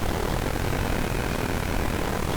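A steady, loud drone of bomber aircraft engines rumbling continuously, broadband and unbroken, like a heavy propeller plane passing close overhead.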